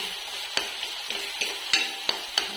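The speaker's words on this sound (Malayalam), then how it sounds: "തക്കാളി അതിന് നന്നായിട്ട് അതിന് ഈ ഒരു നെയ്യിലും എണ്ണയിലും ഇങ്ങനെ കിടന്ന് നല്ലപോലെ വഴന്ന്" Tomatoes sauté in a mix of ghee and oil in a pan, giving a steady close sizzle broken by sharp spatula clicks against the metal every half second or so.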